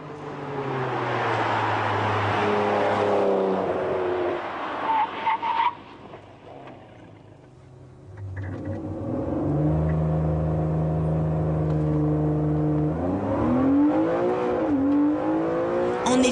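A Ferrari 599 GTB Fiorano sports car drives past loudly, its engine revving and rising in pitch, easing off briefly in the middle before building again with a strong, sustained drone and a sharp final swell.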